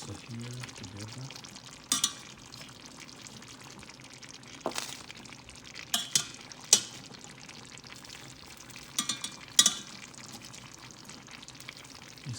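Ground beef and French beans stirred together in a hot frying pan, a soft steady sizzle with occasional scraping clatters of the utensil against the pan.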